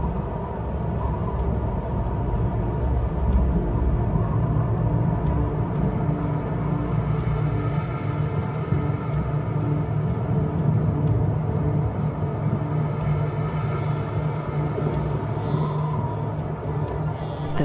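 Low, continuous rumble of an approaching storm over the African plains, where hyenas and wildebeest roam, with wind building; a steady, heavy drone holds at constant loudness throughout, no voices.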